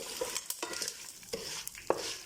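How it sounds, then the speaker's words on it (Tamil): Curry leaves spluttering in hot oil while making moringa leaf powder, faint crackles and pops with light stirring scrapes, close and sparse. "கறிவேப்பிலை போட்டதும் பட்டான்னு"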